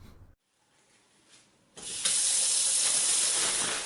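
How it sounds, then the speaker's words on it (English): Water gushes from a tap into a stretchy plastic Amazon Basics Ultra Force drawstring trash bag, starting suddenly after a quiet moment and swelling to a loud, steady hissing pour that keeps filling the bag. "Let's partially fill this bag with water and we will do a leak test."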